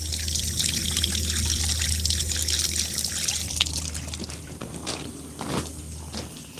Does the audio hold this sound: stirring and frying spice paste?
no